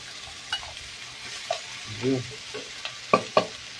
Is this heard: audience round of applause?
no